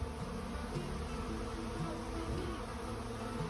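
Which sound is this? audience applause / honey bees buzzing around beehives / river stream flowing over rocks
honey bees buzzing around beehives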